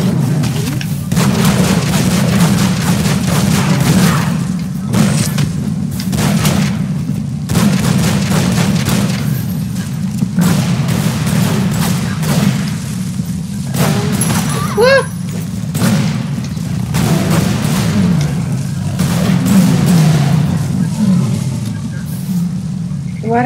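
Gunfire and booming blasts from the video game Tomb Raider Underworld, repeated sharp shots in irregular bursts over a dense, loud game soundtrack and rumble, with a person talking over the action.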